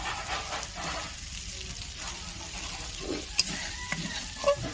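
Spice masala stirred and fried in oil for a Bengali mushroom dish, a soft steady sizzle with occasional scrapes and clinks of a spoon against the pan, fairly quiet and close.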